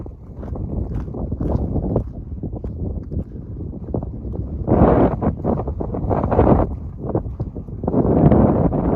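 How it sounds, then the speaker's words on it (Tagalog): Strong wind buffets the microphone in heavy, rumbling gusts that swell and fade, with louder bursts midway and near the end, on a cable car in Abha, Saudi Arabia. "Lakas ng hangin."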